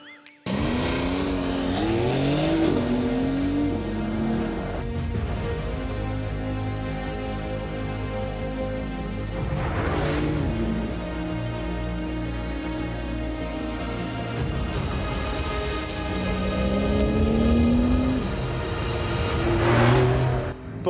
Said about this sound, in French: on entend le feulement du moteur